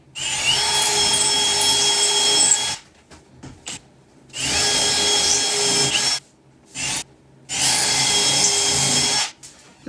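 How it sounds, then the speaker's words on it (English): A power drill bores into wood in three long grinding bursts, loud and close, with short pauses between them. "I'm gonna drill as deep as I can here"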